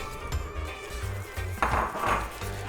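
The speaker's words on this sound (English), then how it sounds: "I'm gonna go ahead and add and whisk that in" A cornstarch slurry is whisked into a vegan shepherd's pie filling in a pot, with quick rhythmic tapping and scraping of the whisk against the pan, close and fairly loud, and one brighter clatter near the end.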